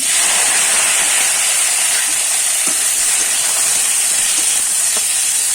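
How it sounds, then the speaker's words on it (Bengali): Spices with ginger, garlic and onion fry in hot oil in a wok for a grass carp fish bhuna, giving a continuous, even hiss at moderate volume with faint scattered ticks and no talking. "হালকা করে আমি কিন্তু মশলাগুলো ভেজে নেব"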